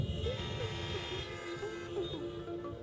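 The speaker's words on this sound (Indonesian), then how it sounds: "Kalau saudara setuju, bunyikan klakson saudara." Several car horns honking together in a sustained, overlapping blare at a drive-in church prayer service, some tones held steadily while others toot, heard from a little distance.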